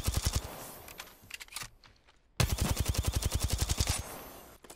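Submachine gun firing in a video game, two rapid automatic bursts of sharp, close, loud shots separated by a brief near-silent gap, with no talking.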